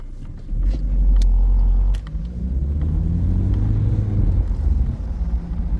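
A 2.0 GTTDI car driving on a road on the way to a petrol station, with a deep, steady engine rumble up close that swells briefly near the start, then holds a constant drone.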